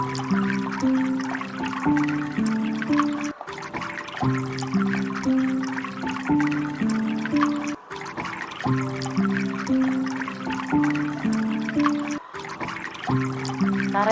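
Gently trickling, flowing water for relaxation, a continuous close babbling wash with recurring tonal bubbling patterns, looping evenly throughout with no voices.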